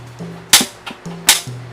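A gas stove in a home kitchen is switched on, giving two sharp igniter clicks close by over a faint steady hum.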